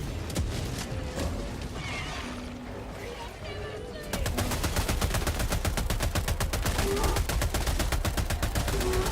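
Incendiary Breaker shotgun fire in Helldivers 2, dense rapid shots that grow louder and steadier after a quieter stretch, with game combat noise throughout.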